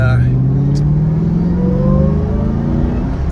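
Supercharged 5.4-liter V8 of a 2005 Ford GT accelerating, a loud steady engine drone rising smoothly in pitch from inside the car.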